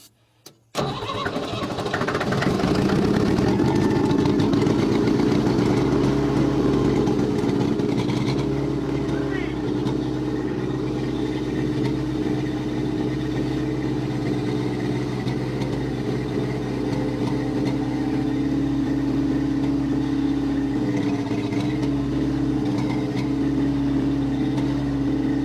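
Old car engine catches after a clutch-pop start, a brief clatter giving way to a steady, close, mid-pitched running drone that holds for about twenty seconds with little change.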